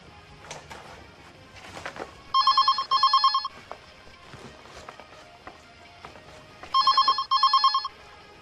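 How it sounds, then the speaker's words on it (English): An old-style telephone bell rings in two separate bursts, each a pair of rapid metallic trills. Softer shuffling and movement noises fill the gaps between the rings. "Telephone. Oh, the phone."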